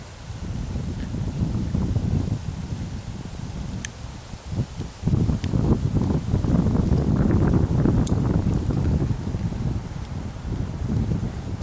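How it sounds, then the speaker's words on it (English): Outdoor wind blusters steadily in gusts, rumbling low and rising in strength, with faint scattered clicks and rustles mixed in and no voices heard. "Wind's picking up a bit."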